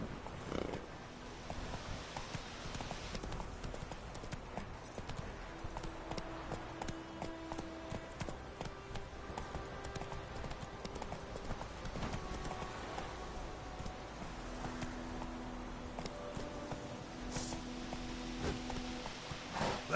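Roach, Geralt's horse in The Witcher 3: Wild Hunt, gallops with a steady, rapid clip-clop of hooves running without a break under soft game music, quiet and evenly paced from start to finish.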